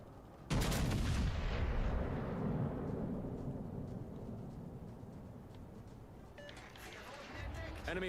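Warship guns fire in World of Warships: Legends, one loud heavy blast near the start whose rumble slowly fades over several seconds, with fainter game noises near the end.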